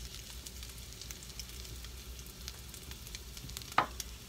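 Crushed potatoes frying in oil for a breakfast medley, giving a steady, quiet sizzle with light crackles throughout and one brief sharper pop near the end.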